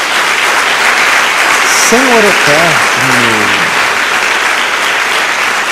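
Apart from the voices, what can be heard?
church congregation applause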